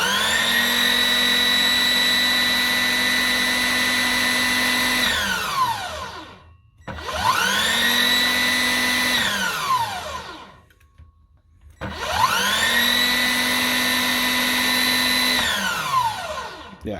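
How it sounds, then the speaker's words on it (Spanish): A Klatter cordless circular saw runs with its blade spinning free and no load, a steady loud motor whine that winds down and spins back up three times with short gaps between. "tenemos un consumo más o menos de 120 watts en vacío del motor solamente girando el disco"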